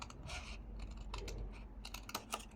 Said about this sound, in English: So I'm just going to cut right down this.